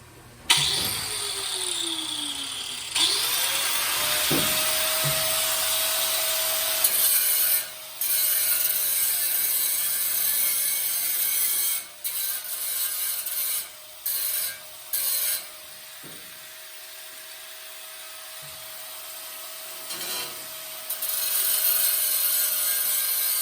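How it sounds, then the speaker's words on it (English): An angle grinder spins up and grinds an MG Midget floor pan panel in one long, harsh, close run of metal abrasion with brief dips in pressure and a steady motor whine. "take the angle grinder and just grind down this part"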